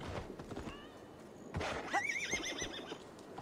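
A horse in the video game Assassin's Creed Valhalla whinnies with a rising, wavering neigh midway, over clip-clopping hooves and soft game ambience.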